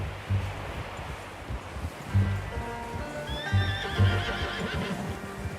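A horse in Red Dead Redemption 2 whinnies loudly, a long wavering neigh, over clopping hooves and rustling in the background.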